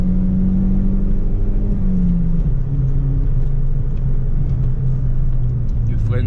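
Opel Vectra GTS engine heard from inside the car as it climbs toward 6000 rpm, a steady low rumble with a slowly shifting pitch, fairly loud and continuous, with no clear sharp rev peaks.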